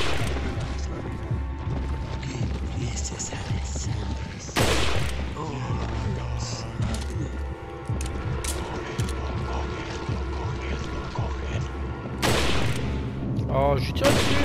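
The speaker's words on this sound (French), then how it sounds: "je tire dessus" Gunfire in Resident Evil 4, loud crashing shots and sharp bursts recurring over a busy, rumbling game mix for the whole stretch, with a voice talking over it.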